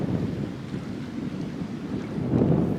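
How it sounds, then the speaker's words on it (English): Strong wind on a lake on Vancouver Island buffets the microphone in a continuous low rumble, with gusts swelling louder toward the end; faint lapping water may sit underneath. "It is a very windy day on the lake."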